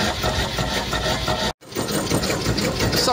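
A homemade Stirling engine driving a generator runs fast and steady, giving a dense, rapid mechanical whirring and clatter close by, cut by a brief dropout midway.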